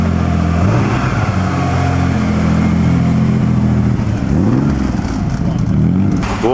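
A Ferrari 340 America's large engine with three carburetors runs loud and close at a car concours, a strong steady roar with rising and falling revs, a brief swell near the end, and no talk.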